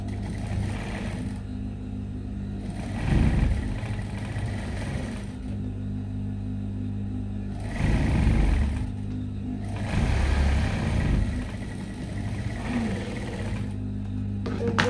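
A sewing machine stitches a straight seam on a blouse, its steady low motor hum running continuously, with a few louder bursts as it speeds up, no voices over it.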